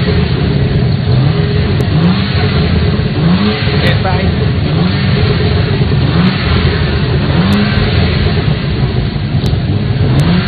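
A car engine revs repeatedly, its pitch climbing and dropping in regular surges over a loud, steady rumble, close by.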